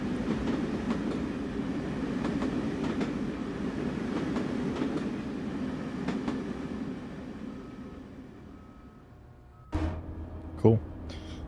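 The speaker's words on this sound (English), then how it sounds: "I like the track sounds of the bi-levels." Bi-level passenger cars rolling over track in the Train Sim World 6 game, a steady low rumble with faint rhythmic clicks that fades out, followed by a brief louder mechanical tone near the end.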